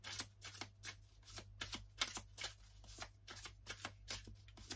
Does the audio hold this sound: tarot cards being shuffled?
yes